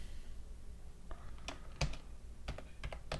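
Soft, scattered keystrokes on a computer keyboard tap out a short irregular run of clicks, close but quiet, with no talking.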